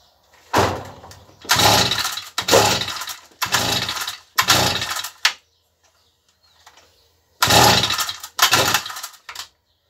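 A Stihl FS38 brushcutter's small two-stroke engine fires in a series of short, loud roaring bursts, each about half a second to a second long, separated by brief silences and a longer pause before two final bursts.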